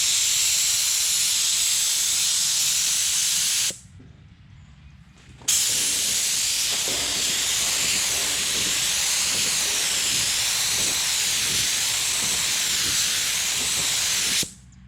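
A spray gun applies a paint coat to a car panel in a collision repair shop, producing a loud continuous hiss that cuts out briefly for a couple of seconds, then resumes and stops near the end.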